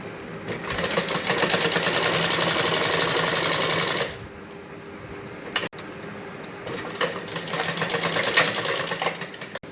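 A sewing machine stitching the seams of a belt salwar runs in a steady, fast mechanical rattle, pauses briefly, then starts up again in a second burst, close by and alone.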